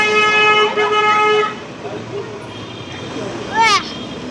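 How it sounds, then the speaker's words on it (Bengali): Busy street traffic with a car horn sounding a long, loud toot, then a short second honk a couple of seconds later over the rumble of passing vehicles. "অনেক গাড়ি আছে।"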